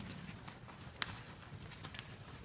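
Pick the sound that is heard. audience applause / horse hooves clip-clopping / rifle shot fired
horse hooves clip-clopping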